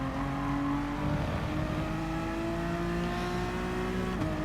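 A Honda NSX race car at Goodwood accelerates hard through a lap, its engine note rising steadily in pitch and staying loud and close throughout, with a brief gear change near the end.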